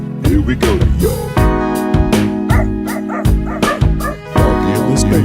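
A comedian imitating a dog with his voice on a comedy talk show, a rapid string of loud, close yips, barks and whimpers in an uneven rhythm.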